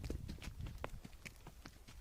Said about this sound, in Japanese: ベドウィンの友人と今2人乗りをしていますけれども、全くこのロバの馬力が落ちない。